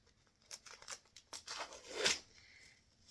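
Scissors snip through red and beige woven plaid cotton shirting fabric in a few quiet, close crisp cuts, with a longer rasping cut near the end.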